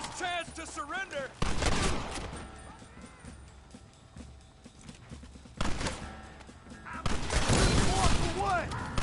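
Gunfight in the Western video game Red Dead Redemption, with bursts of gunfire and horse hooves in two loud stretches separated by a quieter gap, while voices shout over the action.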